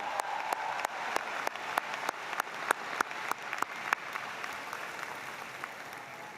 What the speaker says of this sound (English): let's give another hand of applause to our outstanding speakers, Miriam Zara and Russell Ramsey